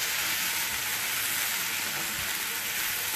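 Potatoes fry and brown in butter with a loud, steady, bright sizzle that fills the whole clip, close and unbroken, with no talking.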